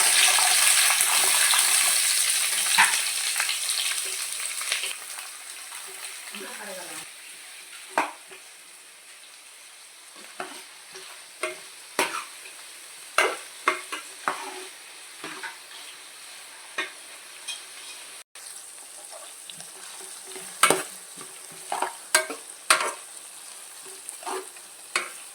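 Three small chopped onions fry in a pan for mutton kurma, a sizzle that starts loud and settles lower, with a spoon scraping and stirring in repeated sharp clinks and scrapes.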